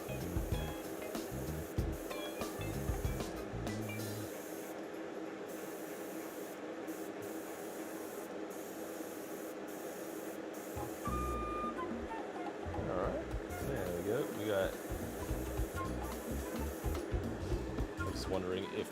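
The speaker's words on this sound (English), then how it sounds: "Wondering if the airbrush is doing a lot of the heavy lifting here" An airbrush sprays paint onto tabletop dungeon terrain: a steady airy hiss that cuts out and resumes in several bursts, with faint background sounds.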